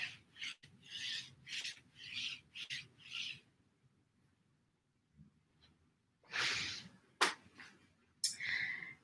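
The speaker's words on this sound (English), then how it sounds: "Maybe rubbing the outer thighs a little bit." Hands rubbing the outer thighs during a yoga session, a series of soft rasping strokes in rhythmic bursts, close and quiet, with a pause before a few more rubs.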